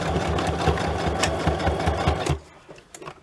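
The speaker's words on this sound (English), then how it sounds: "take the clip off, secure it, start sewing" A sewing machine stitches through a junk journal paper cluster in a fast, steady mechanical whir of rapid needle strokes, close and clear, then stops abruptly with a few quiet handling sounds.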